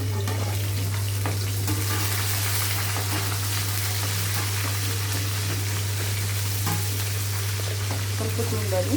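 Green chillies frying in oil in a pan for mango pulihora, a steady close sizzle running without a break and with no talking.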